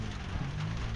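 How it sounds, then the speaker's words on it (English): Rain falling steadily near small shops, a soft continuous patter with no voices. "So the rain was coming from the other side."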